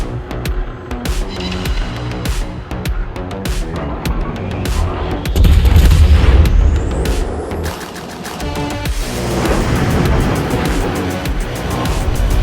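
Naval gunfire from the German tier 7 cruiser Yorck firing AP shells in World of Warships, heard as repeated sharp cannon reports over a steady engine and sea rumble, with one heavier boom near the middle.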